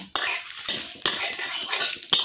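Whole black peppercorns, coriander seeds and other pickle spices for a Bengali chalta pickle sizzle and are stirred in a pan, with repeated scraping and clinking of a metal spoon against the wok in short bursts.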